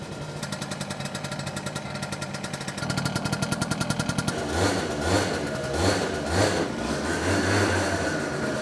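A motorcycle, one of several in a home collection, fires up on its electric start after about six weeks unused, then settles into a steady, close, loud idle with a rhythmic throb.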